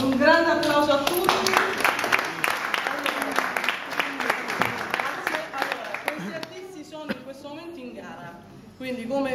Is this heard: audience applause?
yes